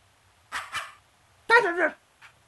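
A video game puppy in Nintendogs gives two quick yips, then a longer, higher whining bark after a pause, followed by one faint yelp; quiet in between.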